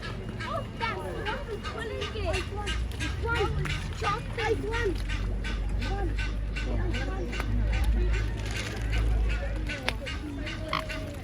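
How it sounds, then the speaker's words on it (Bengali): Ducks crowd near the castle at Windsor as visitors feed them, a busy, near chorus of quacks and honks over low babble, with people talking close by. "এখানে হাঁস হাঁসের সবাই খাবার দিচ্ছে আর এক একটা কি মোটা মোটা হাঁস"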